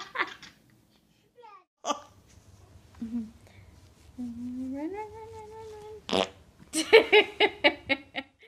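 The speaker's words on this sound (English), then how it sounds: "Oh, that's my farting dog" A baby's farts pop out among babbling and cooing, with a sharp burst midway and a run of short, quick squeaky toots near the end, fairly close and clear against a quiet room.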